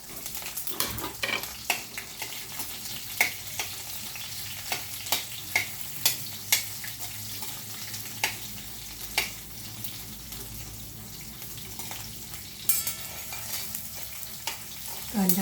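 Onion sautéing with peanuts and curry leaves in a pan, a steady low sizzle broken by repeated scraping and stirring clicks of a spoon against the metal, close and moderately loud with no voices.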